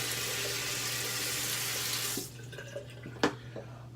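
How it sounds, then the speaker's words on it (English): Water gushes loudly from a tap for rinsing, then the flow shuts off, leaving faint drips and small handling knocks. "I'm going to rinse one more time."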